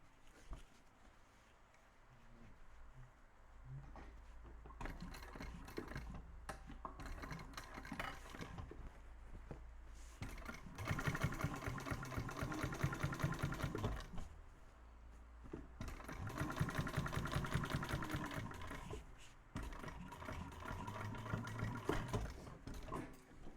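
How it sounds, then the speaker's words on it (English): A sewing machine runs in several bursts of rapid stitching while understitching the lining of a small bowler bag, steady mechanical whirring with pauses between runs, close and moderately quiet. "you just do a quick little understitch about 1/8 of an inch away down all this way"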